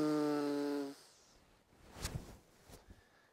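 Breathing deeply through a First World War gas mask makes its valve vibrate with a loud, close buzzing drone, followed by softer breathy puffs and rustles.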